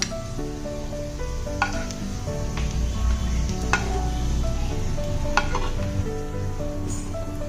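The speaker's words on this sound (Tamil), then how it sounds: "இப்ப பாருங்க, முந்திரி வந்து நல்லா வறுபட்டுருச்சு" Cashews fry in ghee with a steady sizzle and occasional spoon scrapes and clinks from stirring, heard up close beneath soft background music.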